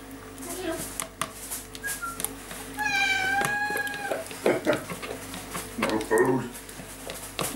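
A cat begging for food gives a clear drawn-out meow partway through, with other short mewing sounds, in a room where handmade soap is being made and people are talking and handling things nearby.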